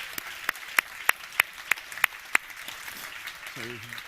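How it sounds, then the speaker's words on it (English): Sparse audience clapping welcomes a speaker onto the stage at a climate showcase event, roughly eight distinct claps in an uneven rhythm over room noise, tapering off before a brief voice at the end. "please give her a warm welcome, round of applause."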